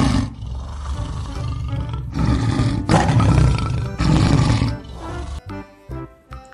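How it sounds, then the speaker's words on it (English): A lion roars loudly and up close in a series of deep, rumbling bursts that carry across most of the stretch, then break into shorter grunting calls near the end. "Lion."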